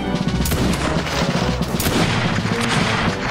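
Cannon fire in the video game Mount and Blade, with dense overlapping booms and gunfire crackle throughout a steady loud battle din, several sharp blasts standing out.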